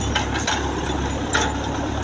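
A tractor engine runs while plowing a field, a steady low rumbling drone with faint clanks, moderately near.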